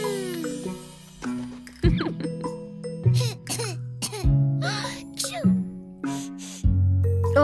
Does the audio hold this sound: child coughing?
yes